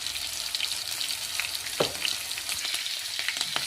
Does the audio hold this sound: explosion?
no